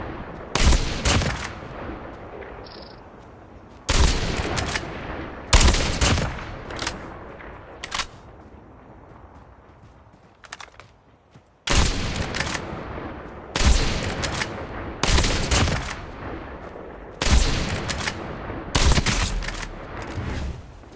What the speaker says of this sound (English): The second way to fire a sniper is to press the aim button and start firing continuously with the left fire button.